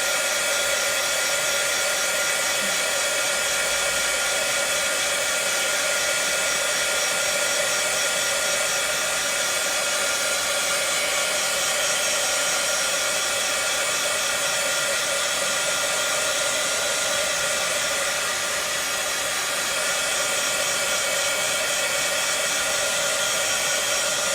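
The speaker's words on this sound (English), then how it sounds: "now I'm going to use my heat tool again, and I'm going to make sure it's all dry" A crafting heat tool blows continuously to dry paint, a loud, steady, close whooshing roar that holds without a break for the whole stretch.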